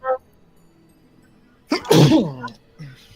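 A single loud, close sneeze bursts out after a brief quiet pause, followed by a short vocal sound.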